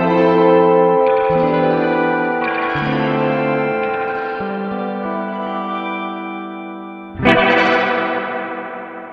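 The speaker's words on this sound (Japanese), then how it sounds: "スプリングのペチャっていう音がね、結構広がりすぎちゃうので" Electric guitar through a Strymon BlueSky reverb pedal in spring mode, with sustained chords and single notes washing into a lush, splashy tail, and a fresh strummed chord blooming late.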